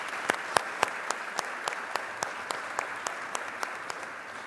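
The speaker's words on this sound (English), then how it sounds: "Yes, we should give Brian another round of applause" A small audience gives quiet, sparse applause: a handful of distinct, evenly spaced claps over a low room hiss, with no talking.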